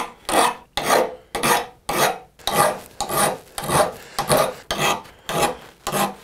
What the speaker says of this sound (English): then we can file this to the shape we want